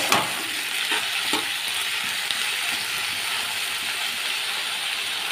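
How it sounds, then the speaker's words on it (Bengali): Pointed gourd and potato pieces being stir-fried in a pan with turmeric and salt, giving a steady close sizzle throughout with a few scraping clicks of a spatula near the start. "এবারে নেড়েচেড়ে খুব ভালো করে এটা ভেজে নেব।"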